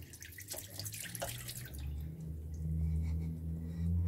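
Tap water runs into a cup at a bathroom sink, a close steady stream with drips and splashes early on, then filling more fully toward the end, with no talking.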